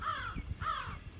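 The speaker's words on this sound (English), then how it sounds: "at least the crows have shut up. And almost instantly, they started yippity yapping and calling." Crows caw loudly and close by, two harsh drawn-out calls in quick succession on a beach where a sailing boat is anchored, with no talk over them.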